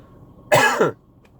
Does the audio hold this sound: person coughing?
yes